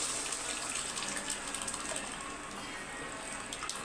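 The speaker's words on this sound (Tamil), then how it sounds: "பருப்பு தண்ணி ஊற்றிக்கலாம்." Lentil cooking water poured into a pot of sambar with brinjal and sambar powder, a steady broadband gush of liquid running continuously for a few seconds, fairly quiet with no talking.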